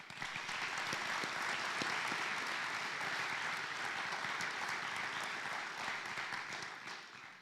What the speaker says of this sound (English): please give a round of applause to all of our nominees attending tonight's event